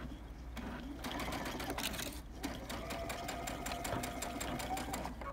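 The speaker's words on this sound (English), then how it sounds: "And then I'm gonna sew in and then backstitch." A sewing machine stitches through soft Cuddle Minky fabric on a self-binding blanket, a steady close whirring with short bursts and brief pauses, no talk over it.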